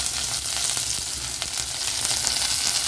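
Onions sizzling and frying in a hot pan with mustard seeds and lentils for ragi rava kichadi, a steady close crackle with faint occasional clinks throughout, no talking.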